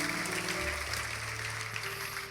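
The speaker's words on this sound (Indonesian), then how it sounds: "boleh tepuk tangan dengan tulus" A church congregation applauds at a sermon, a steady, moderately loud wash of clapping mixed with soft background tones and a faint murmur of voices.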